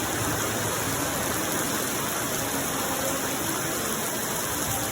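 Steady, dense hiss of heavy rain in a rural Philippine province fills the air without pause, loud and continuous, with no other sounds standing out.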